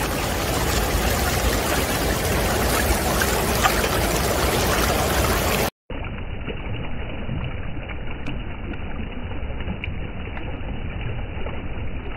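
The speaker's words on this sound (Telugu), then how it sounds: "ఇక్కడ వాటర్ చూడండి, వాటర్ సౌండ్ చాలా" Steady rushing water flows without pause, a broad continuous wash that briefly cuts out midway, then resumes slightly duller.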